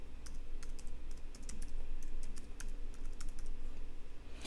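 Rapid keystrokes on a computer keyboard while an ad description is written, a steady run of close, crisp clicks and taps over a low room hum, with no voices.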